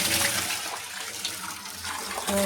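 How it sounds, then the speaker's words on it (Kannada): Water poured onto a welded joint, rushing and gurgling steadily as it leaks through, close up and continuous throughout. "ನೋಡಿ ಹಂಗೆ ನೀರು ಹಾಕಿದಾಗ ಇಲ್ಲಿ ಲೀಕ್ ಆಗ್ತಾ ಇತ್ತು"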